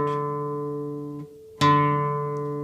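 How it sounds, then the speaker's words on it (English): Classical guitar string plucked with the fingernail alone for a brittle tone: one note rings and decays, then a second sharper pluck sounds after a short pause, close and clear with no voice. "using just the nail exclusively, which gives a more brittle sound"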